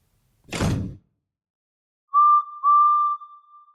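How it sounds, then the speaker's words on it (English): A railway guard's whistle on a station platform gives two shrill, sustained blasts, the second longer. A brief whooshing thud comes just before, in otherwise quiet surroundings. "He ran onto the platform, blew his whistle, and jumped into his van."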